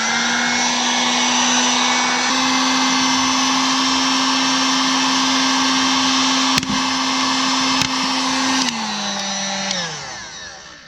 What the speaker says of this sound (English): I'm going to use a heat gun, although like a hair dryer or something like that would work just as well.